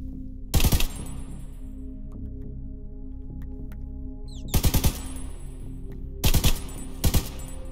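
Gunfire from a gun in Minecraft: three separate clusters of loud, rapid shots, the second and third each split into quick bursts, over a steady low game hum and an ambient bed.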